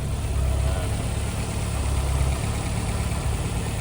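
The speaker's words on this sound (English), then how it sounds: "They idle smooth, especially for Lancia from the early 90s." A 1990 Lancia Delta Integrale HF 16v engine idles smoothly and steadily, a close, even low rumble with no bounce.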